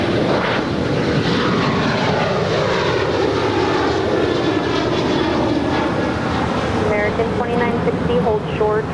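Airliner roaring down runway 25 right for takeoff at Los Angeles International Airport, a loud, steady jet engine rumble that holds throughout at close range, with voices and radio chatter heard faintly beneath.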